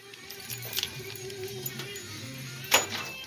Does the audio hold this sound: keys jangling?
yes